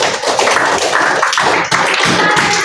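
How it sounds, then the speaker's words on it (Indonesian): Classroom of students clapping hands together in a close, loud burst of rapid claps, steady throughout the short stretch with no talk over it. "Tepuk tangan ya."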